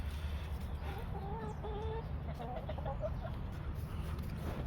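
Backyard hens cluck softly in a few short bursts over steady low outdoor noise in a snowy winter setting, fairly quiet and somewhat distant, with no talking.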